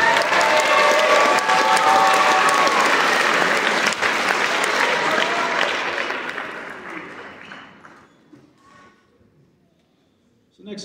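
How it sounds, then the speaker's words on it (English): An audience at a high school band concert claps loudly and steadily, then the applause fades over several seconds into near silence. "Can we give them a round of applause?"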